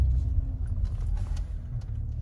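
An Opel Insignia OPC reverses into a parking space, its engine giving a steady low rumble close by with no talk over it.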